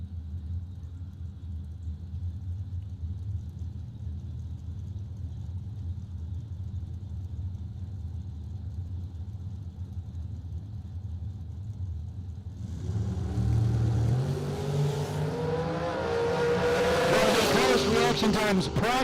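A dragster accelerating down a drag strip, a distant engine rumble that swells into a louder, rising roar as the car launches and pulls away.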